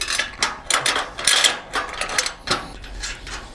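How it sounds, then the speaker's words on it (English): A 3/4 inch ratchet wrench and socket tighten a big nylon nut on a utility trailer coupler, giving irregular clicking and ratcheting bursts at close range. No speech is heard. "3/4 inch wrench and socket. I'll tighten this coupler right on."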